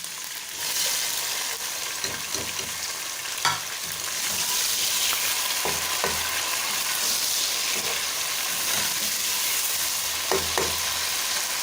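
Tomatoes fry with garlic paste in a pan for chana dal with purslane, giving a bright, continuous close-up sizzle broken by occasional clanks and scrapes of stirring. No one speaks.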